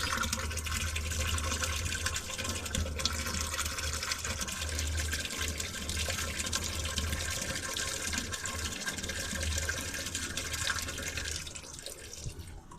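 Water runs steadily into a container while an herbal distillate is being made, a continuous close rushing and trickling flow at low level with no talk over it.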